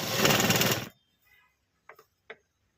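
Sewing machine stitching a hemming strip in one quick, loud burst of under a second, followed by near silence and a few faint, sharp clicks of the machine settling.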